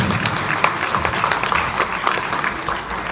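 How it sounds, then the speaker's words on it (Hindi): Audience applause at a book launch event, a steady wash of many hands clapping that holds at even loudness for about three seconds. "आपके सामने आ चुकी है, तलाश साहिल की। एक बार जोरदार तालियों के साथ।"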